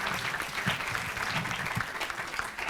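An audience at a book presentation on electoral justice gives a steady, dense round of applause for a speaker. The even wash of clapping is heard from a moderate distance and holds without a break.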